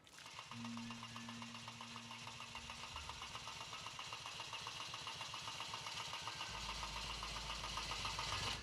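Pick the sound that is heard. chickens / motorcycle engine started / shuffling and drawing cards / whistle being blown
motorcycle engine started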